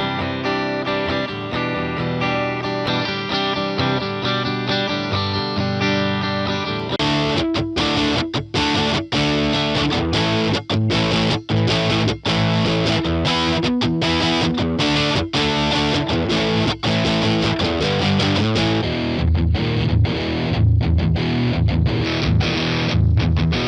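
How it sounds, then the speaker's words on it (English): A heavily distorted electric guitar through a high-gain amp simulator plugin plays a riff with thick crunch. It starts with sustained chords, then moves into choppy, palm-muted rhythm playing. "the clean channel has a nice dirty mode, which allows you to boost the gain to get some decent crunchiness"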